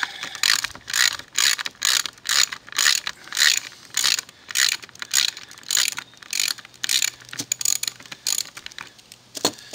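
A ratchet turns out a bolt during module construction, while alignment T-nuts are being installed. Close, rhythmic clicking comes in regular back-and-forth strokes, about two per second, steady throughout with no talk.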